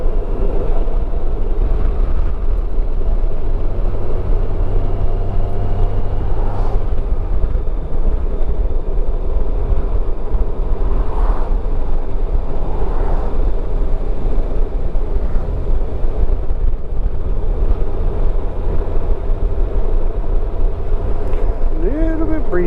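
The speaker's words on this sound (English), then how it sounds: "A little bit breezy. Cut back some of that road noise." Steady road noise and wind buffeting from a car driving through the Blue Ridge Mountains at elevation, a constant low rumble filling the whole stretch with no speech.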